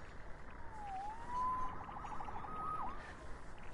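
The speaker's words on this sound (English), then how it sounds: "Saved by the siren." Police siren in Marvel's Spider-Man video game, a wailing electronic tone that sweeps up and down twice against a low hum of city ambience, moderately loud and not masked by voices.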